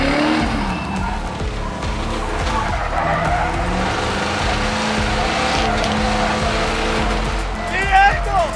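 A modified Hummer H1 drifts with long, loud tire squeal and skidding over steady engine roar, rising near the end.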